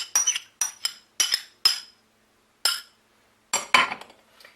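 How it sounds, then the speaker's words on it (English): A spoon clinks sharply against a bowl while eggs are mixed for a pumpkin pie, heard as short bursts of quick taps, close and crisp, with brief pauses between bursts and no talk. "Just going to mix my eggs up just a little bit here"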